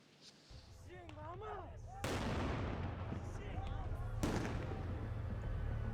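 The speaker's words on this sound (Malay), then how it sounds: "Bunyi tembakan didengar di beberapa jalan utama di Almaty" Sharp gunshots crack outdoors in the streets of Almaty, Kazakhstan, during the January 2022 protests, with a rumbling echo, two loud reports ringing out over a background of distant voices and street noise.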